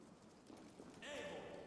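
Horse hooves clip-clop in Assassin's Creed Valhalla, a light steady patter sitting under game voices that talk over it.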